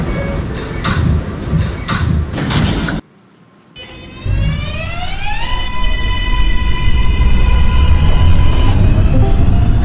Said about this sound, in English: This is a Bronx-bound 4 local train.